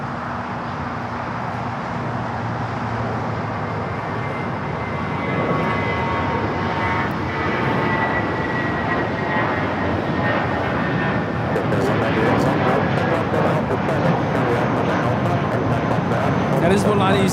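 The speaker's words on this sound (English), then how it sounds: "That is Volati 7849 taking off to Oaxaca on the A320" A Volaris Airbus A320 departing Los Angeles for Oaxaca, its engines spooling up into a steady, growing roar over about seventeen seconds, with someone talking throughout.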